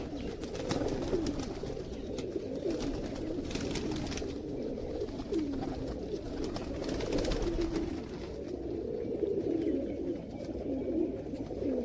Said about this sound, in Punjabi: ਬਹੁਤ ਹੀ ਨਿਆਬ ਕਿਸਮ ਦਾ ਕਬੂਤਰ ਹੈ ਦੋਸਤੋ